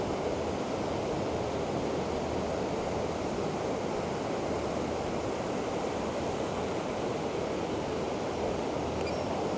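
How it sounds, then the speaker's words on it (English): A constant, dense rush of wind fills the air, a loud broadband roar that holds steady without pauses. "because it's very windy."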